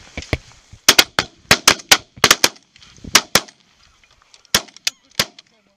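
Shotguns fire during a goose hunt in Sweden, a rapid volley of loud, sharp outdoor reports, some overlapping. The shots come in clustered bursts, then a few spaced final blasts.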